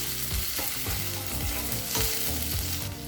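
Chopped tomato sautés in a hot pan for brinjal rice, a steady loud sizzle and crackle with repeated scraping strokes of a spatula stirring throughout, no voices.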